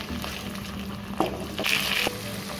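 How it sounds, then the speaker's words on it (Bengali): Coconut paste is stir-fried in a pan for Kashmiri aloo dum, giving a soft, steady sizzle under occasional scraping strokes of a spoon, close and moderately loud. "নারকেল বাটা দিয়ে আমি কিছুক্ষণ কষিয়ে নেব।"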